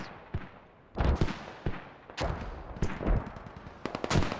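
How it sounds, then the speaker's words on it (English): Mortar and gunfire in the military shooter game Squad during a tournament match: a series of sharp booms and cracks at irregular intervals, some close and punchy, others faint and distant, with no talk. "We see them launching those mortars out and forward."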